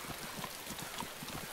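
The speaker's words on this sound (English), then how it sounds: "running through a field in the dark with the rain" Rain falls outdoors in a field at night, making a steady, soft, even patter that continues without a break through the whole stretch, with no talk over it.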